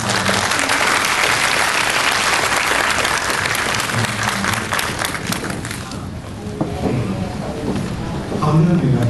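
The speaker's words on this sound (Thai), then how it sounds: "เดี๋ยวขอเสียงปรบมือให้อาร์ต" Audience at an editing class breaking into loud applause with some cheering; dense clapping fills most of the stretch, thins briefly, then swells again near the end.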